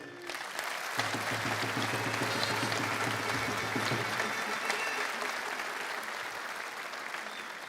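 Sustained audience applause at the World Pastry Cup pastry competition, a dense, steady roar of many hands clapping that holds for several seconds, with a low tone under the first half and crowd noise throughout.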